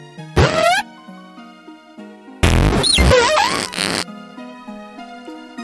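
Two short synthetic creature cries from Stunky and Skuntank in the Pokemon video games, each a buzzy, warbling electronic squeal, separated by a soft plucked musical backing.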